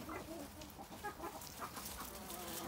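Chickens clucking in a coop or farmyard, several birds giving short overlapping clucks and squawks at moderate distance over a steady background hiss.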